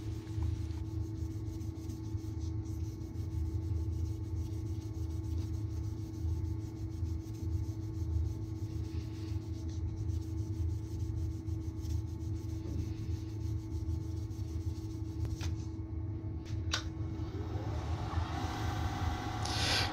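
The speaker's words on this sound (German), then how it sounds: "Der letzte Schliff muss wiederum in Faserrichtung ausgeführt werden." A wooden writing instrument's lacquer finish is hand sanded along the grain, giving a continuous, even rubbing hiss that stays at a steady level throughout, with a few brief scrapes near the end.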